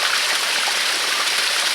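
Spring water at Barton Springs flows and splashes steadily in a continuous bright rushing wash, close and even, with no talk over it.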